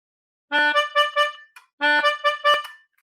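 A reedy melodica plays a short melody, two matching phrases of a few notes each separated by a brief pause, with no talking.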